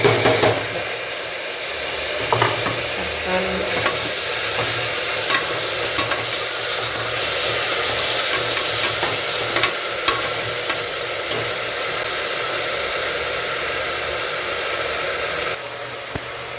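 Tomatoes fry in a pan for chicken curry, a loud, steady close sizzle and hiss with repeated scraping and clinking of a spoon stirring, running continuously without talk.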